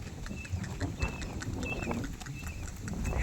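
A dancing mare's hooves clip-clop in a quick, uneven rhythm on hard ground, fairly faint and slightly distant, with a few brief high chirps from outdoors.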